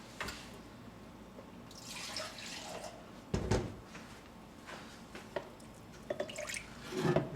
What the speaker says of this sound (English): it's a little thick, so we're going to add a little bit more water